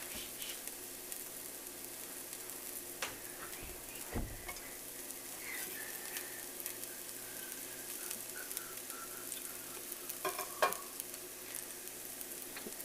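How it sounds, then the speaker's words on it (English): Garlic sizzles softly in a frying pan, a steady faint crackle and hiss with a few light stirring scrapes and clinks. "And I'm going to throw in my garlic."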